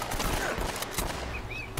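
Gunfire in Uncharted: Drake's Fortune crackles in a dense, steady stream of shots across the whole stretch, with a few brighter cracks standing out.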